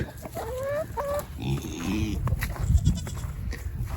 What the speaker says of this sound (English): that little baby goat bleat is so cute